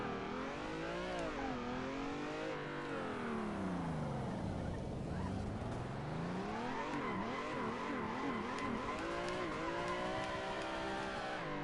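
A Mazda RX-7 in a drifting simulator game holds its engine near redline, the rotary whine sweeping up and down continuously with tire squeal under it, steady and loud throughout.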